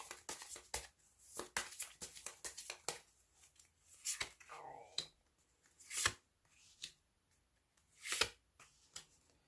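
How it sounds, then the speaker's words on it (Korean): Tarot cards being shuffled and drawn for a reading, a run of quick crisp riffling snaps and flicks in uneven bursts, close and fairly quiet, with soft rustling between. "4번 분들은 어떤 사람일지 카드 뽑아보도록 하겠습니다"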